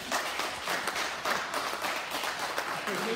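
A church congregation at a prayer service applauds to acclaim the Lord, a dense, steady wash of many hands clapping together for about three seconds, with no voices over it.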